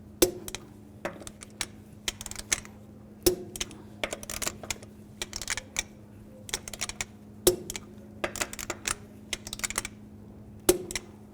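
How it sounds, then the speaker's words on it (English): A torque wrench tightens lug nuts to 80 foot-pounds on a 1964–72 Pontiac GTO wheel in a star pattern: close bursts of quick ratcheting clicks, with a louder sharp click every few seconds and quiet pauses between. "I'm going to use a torque wrench, torque the lug nuts to 80 foot-pounds"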